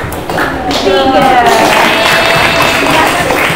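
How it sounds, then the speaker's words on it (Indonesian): Students in a classroom clap for a group, a loud, close burst of many hands that quickly settles into a steady patter, with voices faintly mixed in. "Tepuk tangan untuk kelompok 3"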